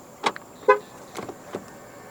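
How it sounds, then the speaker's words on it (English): A 2026 Proton X70 1.5 TD Premium locking through its keyless front door handle gives a few short, sharp chirps and clicks, close by and spaced out over a quiet background. "To lock the car, press the indented area on any of the front door handles."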